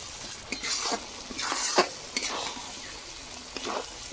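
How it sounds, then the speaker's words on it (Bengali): Masala paste sizzling in hot oil for a Hyderabadi-style chicken dish, stirred in several short scraping bursts over a steady close frying hiss. "দেখুন মশলা কষানো হয়ে গেছে, মশলা থেকে তেল ছাড়তে শুরু করেছে"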